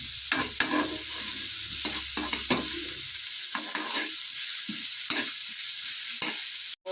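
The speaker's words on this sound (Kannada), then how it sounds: "ಮೆಣಸಿನ್ಕಾಯಿ ಹಾಕೊಂಡು ಚೆನ್ನಾಗಿ ಫ್ರೈ ಮಾಡ್ಕೊಳ್ತೀನಿ. ಗೋಲ್ಡನ್ ಫ್ರೈ ಬರೋ ತನಕ ಚೆನ್ನಾಗೆ" Chillies and onions sizzle in a pan of hot oil, stirred with scraping strokes; the frying hiss runs throughout, loud and close, with rhythmic stirring scrapes.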